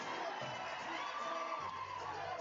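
Boxing arena crowd roaring continuously at a fight, a thick, steady wall of cheering and shouting voices with no letup.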